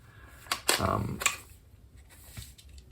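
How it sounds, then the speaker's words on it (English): A toy HLF ARP9 SMG gel ball blaster has its trigger pulled to push gel balls up, giving a few sharp plastic clicks and a short ratcheting rattle, close and quiet. "you just got to pull the trigger down until it pushes the balls up"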